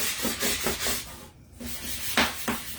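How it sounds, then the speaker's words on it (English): Rhythmic rasping strokes of a sanding block rubbing back and forth over wood, close up, with a short pause in the middle. "Is this my new sanding block already?"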